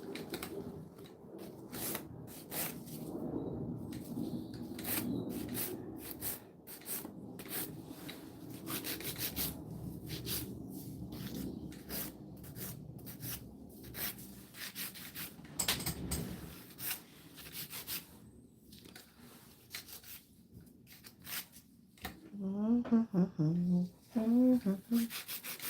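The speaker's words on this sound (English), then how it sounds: "Okay, most of the filing is done." Acrylic nail being filed by hand with rapid, close scratchy rasping strokes, coming in quick bursts with short pauses, soft overall, with brief voice-like sounds near the end.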